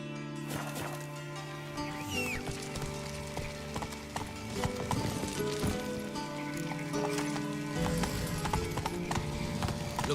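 Roach the horse's hooves clip-clop at a steady walking rhythm in The Witcher 3 video game. The hoofbeats are close and clear, with a low tonal music bed and ambient sounds running underneath.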